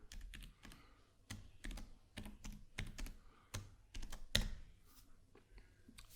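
Username and password being typed on a computer keyboard in an office setting: a rapid, irregular run of close, crisp key clicks and taps, with a few heavier strokes, no voices.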